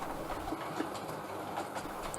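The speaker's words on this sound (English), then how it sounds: "here it is, circumnavigating the small part of my Little Bytham train set" Model railway train hauled by an Ivatt 4MT locomotive running around a tight-radius layout, a steady close rolling rumble with soft clicking wheel noise throughout.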